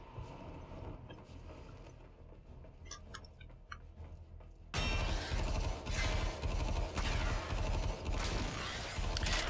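Rapid gunfire from a weapon in the shooter game Warframe, starting abruptly midway as a dense, loud, continuous volley over a quieter background of game ambience.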